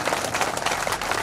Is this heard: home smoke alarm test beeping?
no